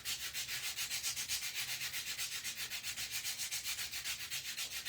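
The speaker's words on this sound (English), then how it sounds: "So let me sand this up." Hand sanding of a wooden bi-level bird nest tray, a steady rhythmic rasp of quick back-and-forth strokes, about six per second, close and even with no talking.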